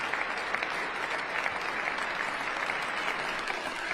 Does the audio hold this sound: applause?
yes